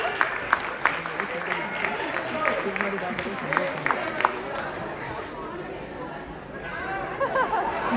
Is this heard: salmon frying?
no